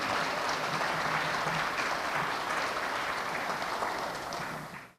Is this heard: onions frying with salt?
no